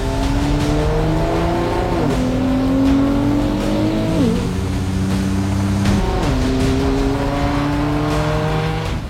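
A Nissan GT-R R35 sports car accelerates along a public road, its engine note climbing through gears with sharp drops at each shift, steady and close, with no voices over it.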